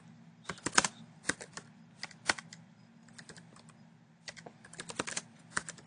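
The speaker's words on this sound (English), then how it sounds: "you go ahead and you type what your post is" Light, quick keystrokes clatter on a computer keyboard in short irregular bursts with small pauses, close and quiet in an otherwise still room.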